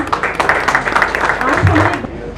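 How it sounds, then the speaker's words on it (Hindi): An indoor audience at a formal legal-cell launch event claps and rises for a standing ovation, a dense burst of applause mixed with chatter and a voice speaking over it. "please खड़े हों और तालियों से उनका स्वागत करें"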